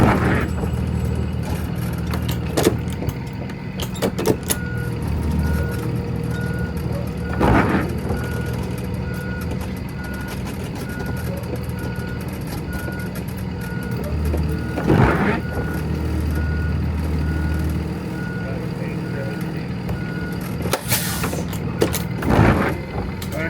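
A school bus reverses with its backup alarm beeping in a steady repeating pattern over the low idle of the engine, heard close from inside the cab.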